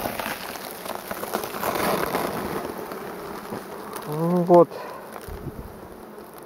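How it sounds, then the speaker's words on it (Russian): Honeybees buzz softly and steadily at a hive just uncovered from snow after wintering outdoors. The murmur sits close by, and a person says a brief word partway through. "Вот наши пчелки уже встречают нас."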